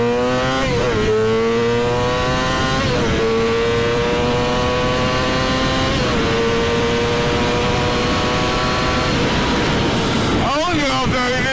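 A Yamaha R6 sport motorcycle engine revs hard and loud, its whine rising and dropping through several gear shifts like a pull, sustained and close for most of the stretch with a sharp rev burst near the end.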